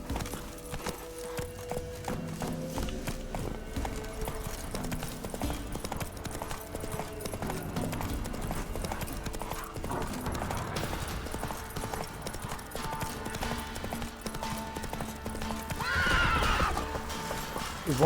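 Horse galloping with hoofbeats and a loud whinny in the Witcher 3 video game, steady clip-clop running throughout under game music, with the neigh rising near the end.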